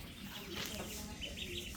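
Ducklings peep faintly in a village pen in Bangladesh, with a few short, thin calls over soft background noise.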